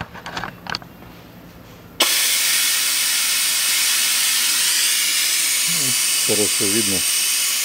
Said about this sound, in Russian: Откачивать буду вот таким вот приспособлением, вакууматором, которым я всегда и делаю